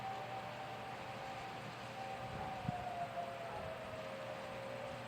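An outdoor civil defense siren sounding during a Rock County, Wisconsin siren test in Beloit, heard as a faint, distant, sustained steady wail over a low outdoor hum with no talking.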